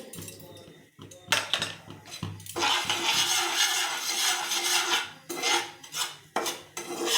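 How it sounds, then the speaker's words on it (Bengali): Semolina mixed with salt and sugar in a bowl for luchi dough, with close scraping and clinking of a utensil against the bowl in bursts and short pauses. "সবগুলো মিশ্রণ ভালো করে মিশিয়ে নেব।"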